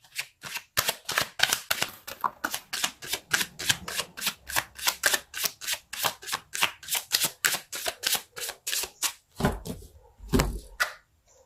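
A deck of tarot cards shuffled close up in a rapid, even run of sharp flicking snaps, ending in a couple of heavier taps as the deck is squared, with no voices.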